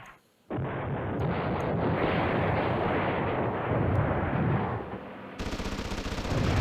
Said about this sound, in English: We're going to drop another airstrike over here.